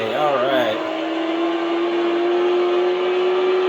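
McLaren race car engine in Gran Turismo 5, a steady high-pitched drone holding one tone after a brief wavering rev at the start, loud and close throughout.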